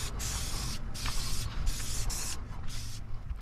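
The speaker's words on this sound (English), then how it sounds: "they want you to spray paint some bright colors on the round bars" A spray paint can sprays bright colors onto Yakima RoundBar roof rack bars in several close hissing bursts separated by brief pauses, each burst loud and sharp.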